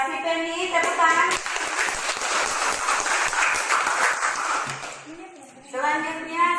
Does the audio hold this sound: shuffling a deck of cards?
no